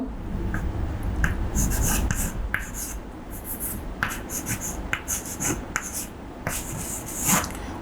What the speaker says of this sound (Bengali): আমি লিখছি একটা সমীকরণ।